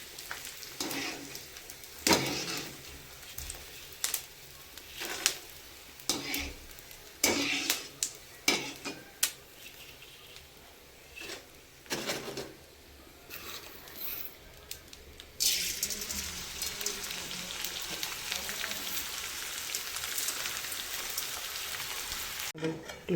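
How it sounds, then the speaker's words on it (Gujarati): Edible gum (gond) frying in a pan over the stove, crackling and sizzling close up with irregular bursts of stirring and clinking, turning into a steady dense sizzle in the last stretch. "ગુંદર ફ્રાય કરવા માટે શરૂઆત થઈ ગઈ છે. આ રીતે આપણે તળી દઈશું."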